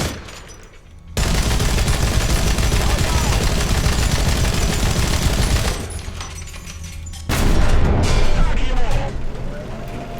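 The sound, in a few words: heavy machine gun shell firing in the video game War Thunder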